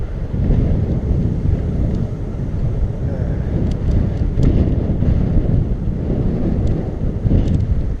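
Strong wind buffets the microphone while a bike is ridden outdoors, a loud, continuous low roar with a few faint higher clicks over it and no speech.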